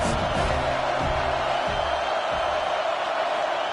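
Video game football stadium crowd cheering during a college football game, a broad, steady roar of many voices that stays loud throughout, with no clear individual shouts.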